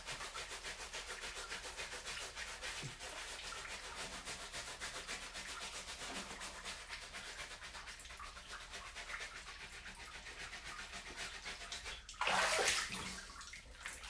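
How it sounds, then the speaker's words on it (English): A wet brush scrubs rapidly and continuously against a bathtub surface, making a steady, rhythmic rasping, with a brief louder splash of water near the end. "Put some more water on the brush so that it's liquid and it's less friction."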